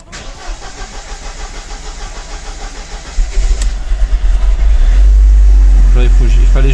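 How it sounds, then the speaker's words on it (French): A Mercedes CLK with a freshly replaced filter cranks and starts up, the engine catching into a loud, steady idle that swells and settles close by. Someone talks over the early part. "On va faire un petit démarrage."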